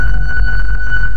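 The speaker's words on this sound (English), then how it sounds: "The software I'm using is called VCV Rack, and it's a free modular synth simulator." Synthesized modular tone patched in VCV Rack software: a steady sustained drone with one bright pitched line over a low rumbling bed, loud and continuous for about a second.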